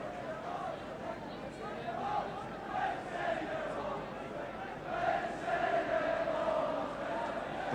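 A large Welsh football crowd at a 1982 World Cup qualifier against Iceland chants in swelling, rhythmic waves, heard from a distance as a broad stadium roar.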